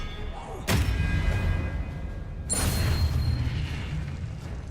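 Two loud, sharp magical blasts in Hogwarts Legacy combat, each a sudden bright crack followed by a rumbling boom, set apart by a few seconds of low, churning background noise.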